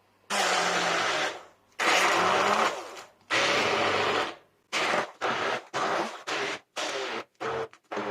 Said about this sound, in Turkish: Ve bir blender yardımıyla iyice robottan geçiriyorum.